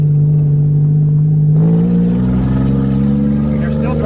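Manual Toyota Camry engine as a learner drives on grass and shifts into second, a steady close drone that changes pitch partway through as the gear changes, with a voice talking over it.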